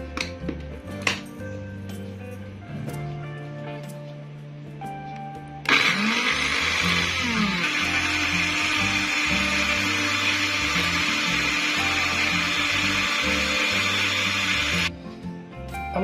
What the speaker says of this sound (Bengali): আমাদের এখন আমরা 20 সেকেন্ড থেকে 30 সেকেন্ড ব্লেন্ডার করে নেব।